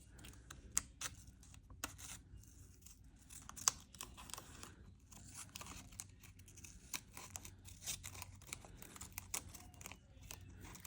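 Soft snipping, crinkling and tearing as craft material is cut in half, scattered faint clicks and rustles at close range, quiet throughout.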